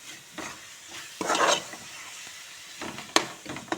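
Cashews and almonds stirred into a coconut mixture in ghee, with a spoon scraping the pan in irregular strokes, one louder scrape standing out, over a faint steady sizzle.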